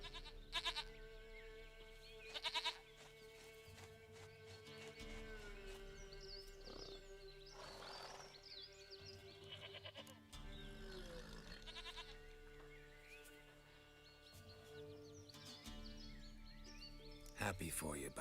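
In The Witcher 3 video game, a goat gives a few short bleats, near and fairly distinct, spaced across a stretch of steady background game music.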